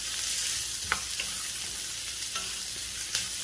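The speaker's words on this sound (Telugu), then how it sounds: "సో ఇప్పుడు ఈ ఆనియన్ కొంచెం ఒక 1 to 2 minutes ఇది వేగాలి." Chopped onion for a biryani fries in a pan with a constant, even sizzle, joined by a few sharp clicks of a spoon against the metal.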